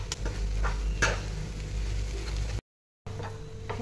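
Kachori filling being stirred together with sugar, salt and grated fresh coconut, a steady close scraping and mixing with a few sharper clinks, alone, broken by a short silent gap.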